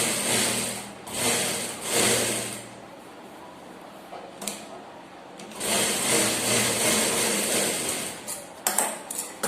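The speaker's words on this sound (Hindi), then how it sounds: "ये इस तरीके से पकड़ के दोनों कट को मिला के हमें यहाँ पर सिलाई मारना है" Sewing machine stitching a plain blouse seam in short bursts of rapid mechanical whirring, broken by pauses with light handling clicks and rustles.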